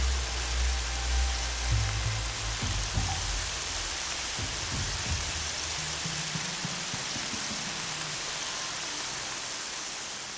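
Steady, hissing video game rainfall pours down without a break, with a few low muffled thumps and rumbles underneath early on.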